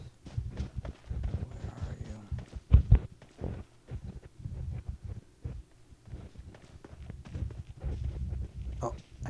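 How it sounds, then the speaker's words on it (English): Footsteps in the battle royale video game PUBG thud in a loose, repeated rhythm of low, muffled steps throughout, moderately close, with a sharper impact partway through. "I hear footsteps."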